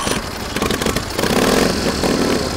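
A 1931 Indian Scout 101 motorcycle engine revs up close by, its rough mid-range roar climbing and holding steady as the throttle opens.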